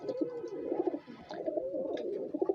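Soft, repeated cooing of star pigeons in a quiet setting, several low throaty calls close by, overlapping in a gentle rolling rhythm.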